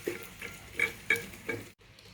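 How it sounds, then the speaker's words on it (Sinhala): Spoon stirring Malay pickle (achcharu) after dates are added, a few scraping, clinking strokes in a bowl spaced about every half second, close and moderately loud, ending in a brief silence. "හැඳි ගා ගන්න"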